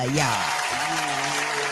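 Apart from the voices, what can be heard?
audience applause for a comedian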